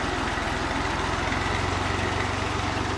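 Farm tractor used for plowing fields, its engine idling with a steady low, pulsing chug close by for a few seconds, no voices.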